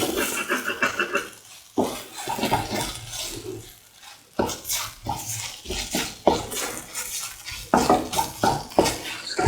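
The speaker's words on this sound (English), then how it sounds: "Now let it fry." Scrambled egg frying in a pan, with close stirring and scraping of a utensil against the pan in uneven bursts over a soft background sizzle.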